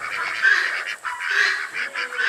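Barnyard ducks honking and calling in a rapid, overlapping chatter, loud and close, with several birds jabbering continuously and no talking.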